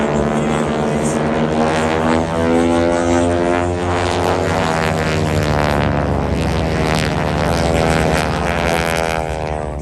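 Aerobatic team aircraft at the Dayton Air Show roar overhead in a loud, sustained propeller drone whose tone shifts and sweeps steadily as the planes pass.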